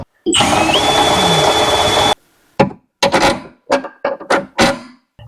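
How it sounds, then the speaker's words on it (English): Power drill enlarging bolt holes on a 1997 Camaro SS, running loud and steady for about two seconds, then several short stop-start bursts of drilling follow close to the microphone. "So we'll get the drill out. Let's make those just a little bit bigger."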